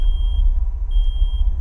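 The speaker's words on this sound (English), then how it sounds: "this alarm sound is annoying as heck" A steady high electronic alarm tone sounds in the horror video game PSALM, holding for most of the moment with a short gap, over a low constant droning rumble.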